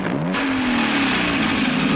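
A car engine revving as it starts to drive off, steady and close, with a rising tonal whine that settles into a constant drone.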